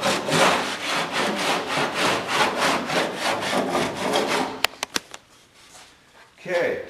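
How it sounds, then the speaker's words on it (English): A cheese grater rasp shaves high spots off Bondo body filler on a classic car under restoration, with steady rhythmic back-and-forth scraping strokes, close and loud, ending in a few sharp taps before a brief quiet. "take off the high spots with your cheese grater"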